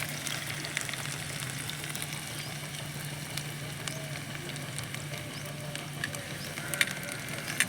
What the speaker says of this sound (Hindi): ये प्याज भून